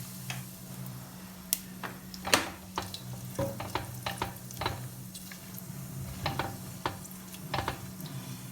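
Cumin seeds sizzling in a pan, a soft steady frying hiss broken by scattered sharp pops and crackles at irregular intervals, close and fairly quiet.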